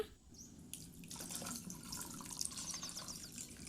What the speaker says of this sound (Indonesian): siram dengan air matang.